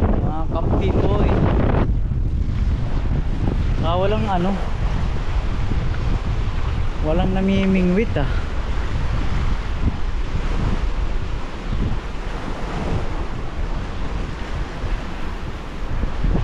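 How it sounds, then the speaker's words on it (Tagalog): Strong surf rolls and crashes continuously at Weymouth Beach, New Zealand, while gusty wind buffets the microphone; someone speaks briefly over the roar. "Lakas ng alon. Mahangin dito ngayon"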